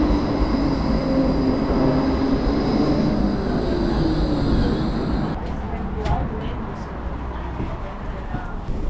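A metro train at an outdoor, above-ground T2 stop in Ghent, Belgium, with a loud rolling rumble and whine that eases off partway through, leaving quieter street ambience and a few sharp clicks.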